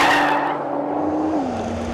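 A 2013 Nissan GT-R Black Edition lapping a track, a loud steady engine drone with a tonal whine that drops in pitch as it eases off, heard from inside the car.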